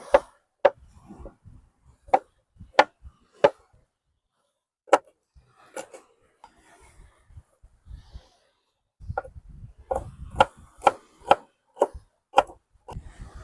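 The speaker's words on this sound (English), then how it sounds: "I'm going to get a couple of carrots, my celery. I'm going to chop them up." A knife roughly chopping carrots and celery on a board, with sharp, irregular thuds, sparse at first and then coming in a quicker cluster near the end.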